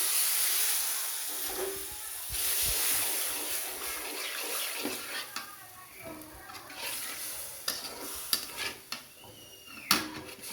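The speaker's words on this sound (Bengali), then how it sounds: "এখন আমি অল্প একটু পানি দিয়ে দেবো" Water goes into a pan of hot spices for a rohu fish curry, a loud hissing sizzle that gradually fades, followed by scattered clinks and scrapes of stirring, close by with no talk.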